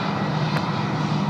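An Emirates airliner on its takeoff roll from runway 16 right is a steady, loud engine roar that fills the short stretch without a break.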